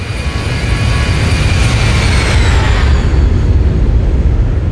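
An aircraft in the X-Plane flight simulator roars past, loud and close, its engine whine sliding downward in pitch as it flies by.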